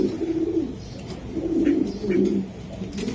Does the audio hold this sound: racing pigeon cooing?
yes